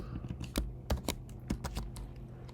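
Fingers type on a computer keyboard in short clustered bursts of clicky keystrokes, close and clear, with brief pauses between taps and no speech over them.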